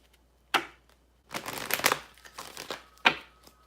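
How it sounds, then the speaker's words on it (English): A deck of tarot cards being shuffled by hand at close range, giving a quiet papery flutter and riffle in a few short bursts, followed by a sharp snap. "All right, let's shuffle these up one more"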